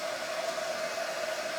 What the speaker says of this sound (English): That dryer dries it so quickly.